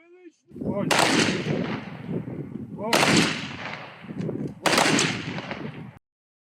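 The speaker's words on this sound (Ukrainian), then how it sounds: "Військові провели в останню земну дорогу захисницю трьома пострілами в небо." Three loud rifle shots fired into the sky as an honorary volley at a military funeral ring out in sequence, each followed by a long rolling echo, with a faint voice briefly heard before the first shot.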